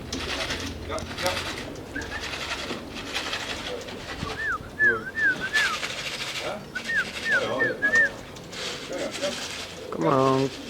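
Racing pigeons coo at a loft, rising and falling calls repeating in short bursts over a steady outdoor murmur, with a person talking nearby.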